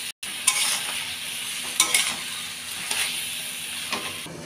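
Tomatoes fry with salt in a pan for dal, a soft steady sizzle with a few stirring scrapes and clinks across the moment.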